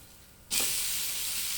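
Sorghum dosa batter on a hot griddle pan bursts into a loud, bright sizzle after a brief quieter moment, then keeps hissing steadily close by.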